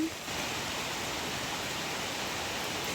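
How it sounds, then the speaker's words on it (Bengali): Steady heavy rain falls without pause, heard as a soft, constant broadband wash at moderate distance with no other sounds standing out. "বৃষ্টি থামার কোনো নামই নাই"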